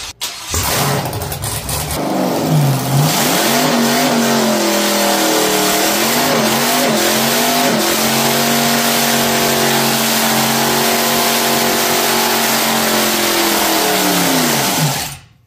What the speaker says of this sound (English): The way this dyno works is we rev the engine all the way up to the max.